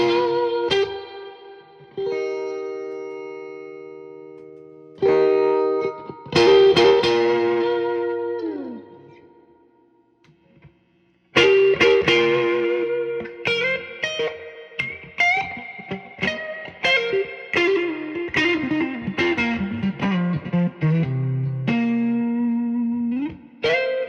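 An electric guitar plays through a 1978 Princeton Reverb amp with heavy reverb drive. Chords and single notes ring out with long washy tails, a pause, then a denser run of picked lines, all without talk.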